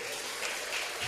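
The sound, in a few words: congregation applauding in church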